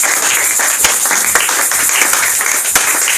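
Church congregation applauding in praise, a dense, steady patter of many hands clapping with a few sharper individual claps, a voice faintly audible underneath.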